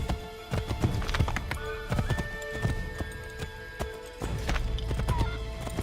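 Horse hooves clip-clopping at a brisk trot in Assassin's Creed III, close rhythmic hoofbeats with a whinny, over light game ambience.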